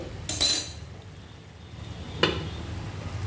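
A lid is set over a simmering pot of curry: a bright metallic clink at the start, a quieter bubbling stretch, then a second sharper clank, close and alone without talk.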